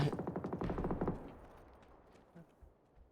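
Rapid burst of automatic gunfire in the video game PUBG, loud and close at first, then fading into an echoing tail with a couple of faint distant shots.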